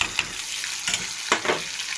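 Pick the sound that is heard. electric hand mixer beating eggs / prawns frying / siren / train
prawns frying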